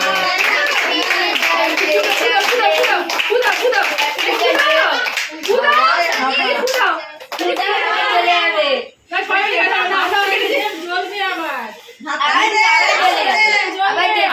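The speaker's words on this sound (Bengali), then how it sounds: "জোরে জোরে হাততালি দাও, হাততালি দাও।" Children at a Teachers' Day celebration clap rapidly in a loud, close flurry, mixed with excited chatter and shouting voices, pausing briefly a few times before resuming.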